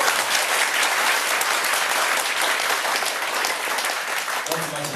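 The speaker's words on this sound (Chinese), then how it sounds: "大家热烈掌声一下。" Warm applause from a gathered audience greets a poet introduced at a public talk, dense and sustained before a voice begins speaking right at the end.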